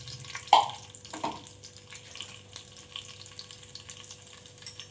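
Whole cumin seeds drop into hot ghee for a dal tadka, giving a sharp crackling burst followed by a lighter second pop, then a soft, uneven sizzle that continues at low level.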